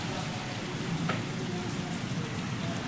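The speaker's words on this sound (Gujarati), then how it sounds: "અને જો વરસાદે વધી ગયો" Heavy rain pours steadily at dusk, a dense, even hiss of drops on surfaces with no let-up across the whole stretch, close and fairly loud.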